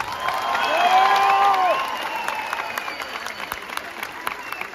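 A crowd at an outdoor open-air concert in Antalya applauds and cheers, a broad, steady wash of clapping with voices and whistles rising early and then easing off.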